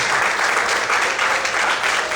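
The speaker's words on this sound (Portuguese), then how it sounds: "Quantos podem aplaudir o Senhor bem forte?" A church congregation applauds loudly and steadily, dense clapping filling the whole moment without a break.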